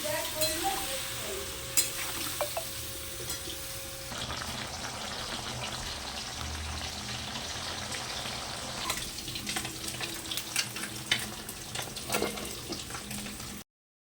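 A Bengali spice masala with cumin powder, ginger and a splash of water is stir-fried for a drumstick-stem dish. A continuous wet sizzle and bubbling carry soft stirring scrapes at moderate volume, with no voice.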